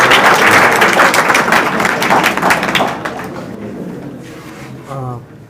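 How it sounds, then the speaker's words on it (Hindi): Students in a classroom or hall applaud their teacher, a dense burst of many hands clapping that gradually thins and fades, with a voice speaking briefly near the end. "ताली हो जाए सर के लिए।"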